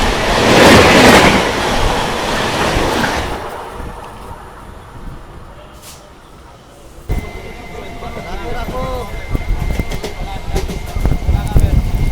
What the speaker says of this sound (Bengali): সামনে আসছে দ্রুতগতিতে train number 13063 Howrah Balurghat express.